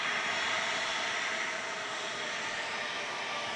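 An aircraft taxis at Melbourne Airport with a steady, loud jet roar held at an even level for a few seconds, and no voices over it.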